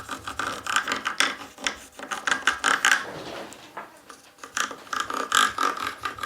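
Agate burnisher rubbing gold leaf into a clay bole ground during painting restoration, giving close, irregular scraping and squeaking strokes in bursts with brief pauses, no voices.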